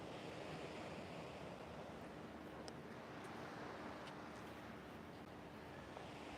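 Ocean waves wash steadily along the San Diego oceanfront under a light breeze, a soft, continuous surf hiss with faint wind rumble and no distinct voices.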